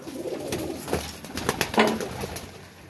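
Pigeons coo in a low, throaty series close by, kept as a pet pair, with a brief flutter of wings and no talking.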